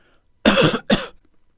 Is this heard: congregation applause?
no